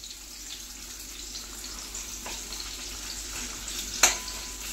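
Gujarati-style fish frying with onions in a pan, giving a soft steady sizzle throughout, with a sharp utensil clink near the end.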